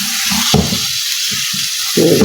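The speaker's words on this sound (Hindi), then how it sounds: "कीमा ऐड करने के बाद मैंने फ्लेम को मीडियम कर देना है और इसे अच्छी तरह से इसमें फ्राई कर लेना है" Minced meat keema with green chilies fries over a medium flame, heard as loud, close bursts of sizzling and stirring that surge and drop in uneven pulses between brief quieter gaps.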